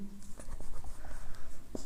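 Chalk or pen strokes tap and scratch during a physics lesson, with a few short, sharp marks in quick succession at close range.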